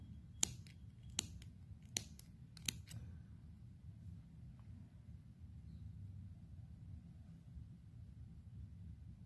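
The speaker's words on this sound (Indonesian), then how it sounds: "benang polyester ini jika dipotong menggunakan gunting ya jika dipotong menggunakan gunting perhatikan" Scissors snip polyester yarn four times in quick succession, each a sharp close click. A low rumble of room noise continues after the cuts.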